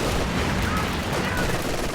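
Dense, continuous gunfire from an anti-infantry strafe in a real-time strategy video game, a loud unbroken burst of rapid shots and blasts filling the whole stretch.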